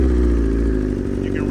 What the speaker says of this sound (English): Now the motorcycle is running.